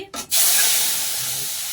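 Dal tempered in a pot on the stove, with a sudden loud hissing sizzle that bursts in after a short quiet start and holds steady, slowly easing, with no voices.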